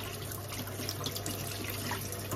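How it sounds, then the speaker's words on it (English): Tap water runs steadily over hibiscus sorrel as it is rinsed in a sink, a constant close wash of splashing and trickling with no talk over it. "Run it under the tap and rinse it."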